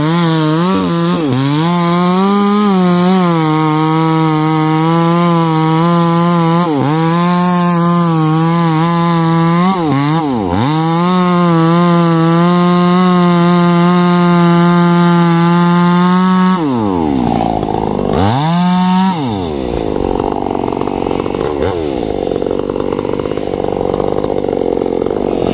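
A chainsaw cuts down a tree trunk in a garden being cleared for fruit trees, its engine loud and close with a steady high whine that dips under load several times before cutting off near the end.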